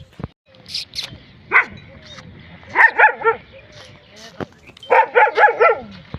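A dog barks in short bursts and clusters, some yips and whines among them, fairly close, with faint background noise between the barks.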